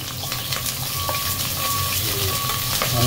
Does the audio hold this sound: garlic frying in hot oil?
yes